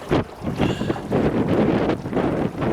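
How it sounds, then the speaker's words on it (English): Boat trolling motor straining against the wind on a bass fishing outing, a rough broadband rumble mixed with heavy wind buffeting on the microphone, steady and loud throughout. "I can hear the trolling motor doing some strenuous work, fighting the wind."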